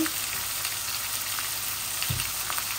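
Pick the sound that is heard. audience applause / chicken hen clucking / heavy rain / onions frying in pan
onions frying in pan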